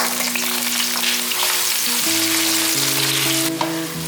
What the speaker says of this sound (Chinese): 锅内放入少许油，油热了之后，把茄子放进来